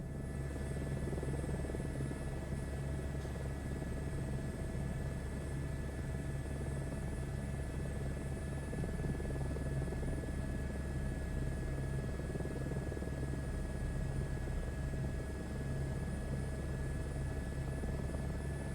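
A helicopter flying in Microsoft Flight Simulator gives a continuous, even rotor and turbine drone with a steady whine on top, unchanging throughout with no voices.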